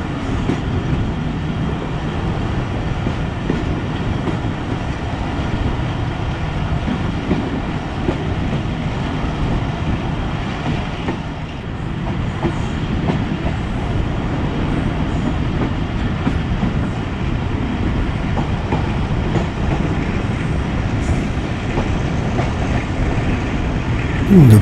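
The Mehar Express rolls along between Multan and Kot Addu while slowing down, its carriage rumbling in a loud, steady roar with faint rhythmic clatter for the full stretch.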